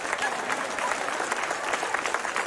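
Church congregation clapping in a steady, moderately dense patter that stays even throughout, with no talk over it.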